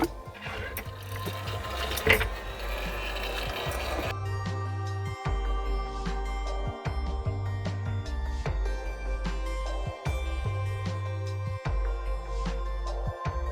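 A hot air gun desoldering a chip from a Baseus Super Energy jump starter circuit board blows with a steady whooshing roar over a low mechanical hum that pulses on and off.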